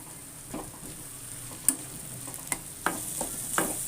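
A teaspoon of butter stirred into frying daal mash in a pan, with a soft sizzle under a few separate clicks and scrapes of a spoon against the pan, heard close with no talking.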